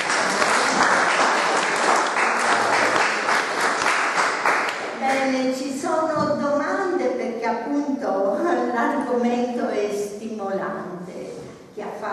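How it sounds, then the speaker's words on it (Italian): Audience applause at a small author presentation evening, clapping strong at first then thinning out as a voice talks over it for the rest. "Allora, intanto un applauso"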